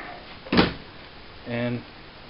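The door of a 1979 Triumph Spitfire shuts once with a short, solid thump, and a brief voice follows a moment later.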